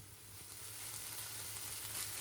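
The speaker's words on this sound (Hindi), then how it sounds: "फ्लेम को हाई करके इस दौरान अच्छी तरह से टॉस कर लें" Vegetables coated in chili sauce sizzle over a high flame while being tossed for chicken and vegetable fried rice, giving a faint, even hiss with soft, rhythmic stirring.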